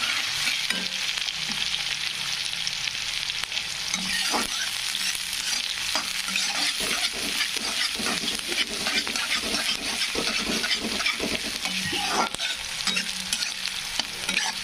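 Onion fries in oil in a pan, a continuous close sizzle with frequent scraping and knocking of a spoon as it is stirred throughout.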